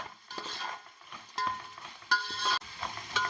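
Uggani, a puffed rice upma, cooking in a pan with salt just added, giving a soft steady sizzle broken by a few metallic scrapes and clinks of a spoon stirring against the pan. No one speaks.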